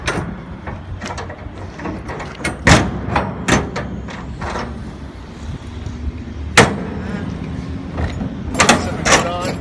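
Rear doors of a tractor trailer being swung shut, with latch rods and metal latches clanking into place: several sharp metallic thuds and clunks at irregular intervals, close by, over a low rumbling background.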